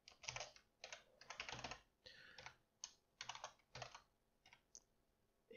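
Bursts of rapid keystrokes on a computer keyboard while code is typed, quiet and close, in several quick runs separated by short pauses.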